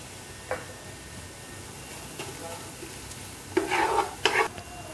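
Whole pepper, cloves and cardamom fry in a pan for chicken kabsa, giving a low steady sizzle with a few sharp stirring scrapes and clinks near the end, close by and without talk.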